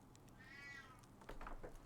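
A house cat meowing at a distance, one drawn-out rising-and-falling meow followed by a couple of shorter chirpy calls, faint against quiet room background.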